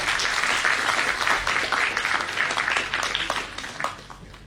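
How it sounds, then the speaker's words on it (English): Audience applause at a college induction programme for an incoming PGDM batch, a dense, steady wash of clapping held loud and close for the full length and easing slightly toward the end. "Let's have a huge round of applause for sir."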